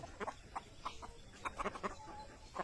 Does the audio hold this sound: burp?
no